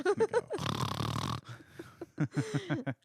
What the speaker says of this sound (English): did you guys get a warthog or is someone snoring?